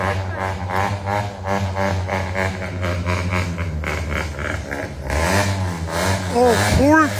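Motorbike engines rev and rumble nearby among a large group of bikes including a Yamaha R3, a steady throaty drone with rising throttle bursts and a voice briefly heard over it.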